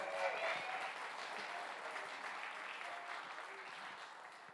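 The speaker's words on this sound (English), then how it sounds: "Give it up for Henry on the drums." An audience applauds the drummer during a jazz dance-party concert in a church, a steady wash of clapping that holds for several seconds and eases only slightly toward the end.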